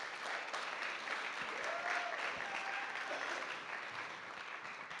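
Steady applause from the audience at an honour gala for women, moderately distant and even throughout, with a faint tonal whistle drifting over the clapping partway through.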